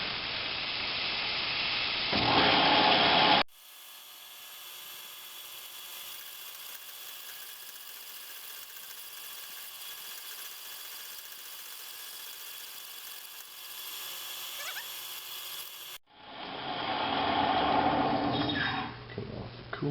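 Milling machine cutting metal with coolant running at about 130 RPM, a steady faint hiss and whir with light mechanical rattle, framed by louder shop noise at the start and end.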